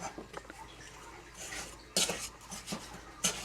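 A spoon stirring a pot on medium-high heat, with clinks and scrapes of metal against the pan, a few sharper knocks standing out over a quiet kitchen background.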